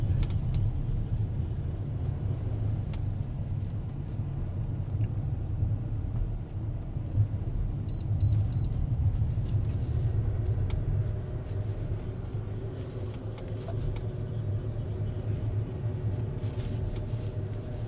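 An AVATR 11 electric car driving down a steep hairpin mountain road, heard as a steady low interior rumble of tyres and road noise, continuous and fairly loud with occasional faint clicks.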